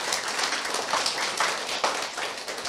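A seminar audience claps together in a sustained, dense burst of applause, close and fairly loud, with no talking.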